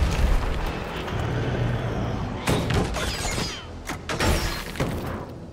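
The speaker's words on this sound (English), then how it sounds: "He has a rocket launcher?" In Resident Evil 3 Remake, rocket launcher blasts strike near the player, heavy bursting explosions with shattering debris. A few loud impacts land in quick succession over a rumbling, noisy game backdrop.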